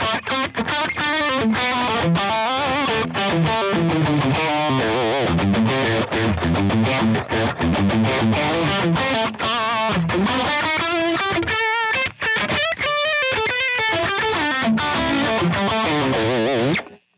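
Electric guitar played through a Line 6 Helix preset with only amp, cabinet and noise gate engaged, giving a loud, continuous distorted tone with chugging riffs and sustained chords that cut off sharply when the gate closes.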